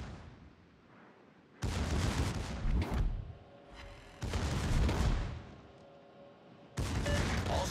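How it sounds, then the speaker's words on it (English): Naval ship guns fire on a target in a combat video game, loud booming volleys in three dense bursts separated by quieter gaps, with a low hum running beneath. "All stations, concentrate fire on the target."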